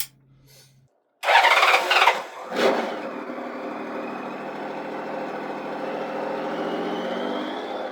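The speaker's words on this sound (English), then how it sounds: "we'll start the engine." A Honda Valkyrie motorcycle engine cranks and catches with a loud burst, revs briefly, then settles into a steady, even idle that carries on alone.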